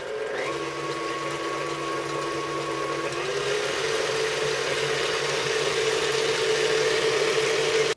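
An electric mixer blends sugar for beignet dough, a continuous loud motor whir with a slight pitch shift partway through, running steadily alone.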